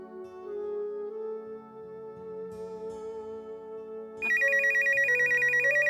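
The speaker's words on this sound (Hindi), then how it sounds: "अरे देखो, किसका टेलीफोन है?" A telephone rings in repeated bright electronic bursts that begin suddenly partway through, loud and close, over a soft tonal music background.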